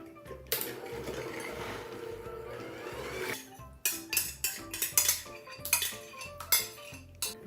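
Cake batter with sugar is whisked in a bowl, first a smooth steady swirl and then a brisk series of clinking strokes of the whisk against the bowl, close and loud, with no talking.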